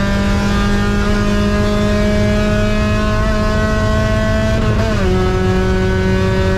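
Race car engine at NCM held at a high, steady drone that dips slightly in pitch near the end, loud and close with no talk over it.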